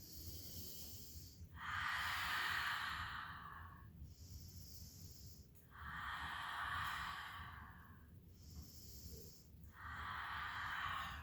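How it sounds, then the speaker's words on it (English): Children doing a deep breathing exercise, in and out, at a slow regular pace: three long, soft, airy breaths out alternate with quieter pauses, close and clear with no talking. "We'll breathe in as she opens the ball and breathe out as she closes it."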